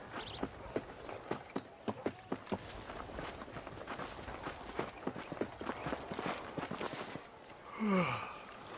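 Horse hooves clip-clopping in the Western video game Red Dead Redemption, a steady walking rhythm of close, distinct hoof falls, with a breathy snort or sigh near the end.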